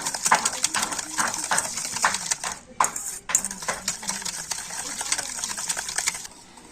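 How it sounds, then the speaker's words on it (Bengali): Ghee, powdered sugar and other ingredients being whisked in a bowl make a fast, dense, rhythmic scraping and clatter, close and steady, that fades out near the end. "আর এবারে আমি সমস্ত কিছু একটু ভালো করে ফেটিয়ে নেব।"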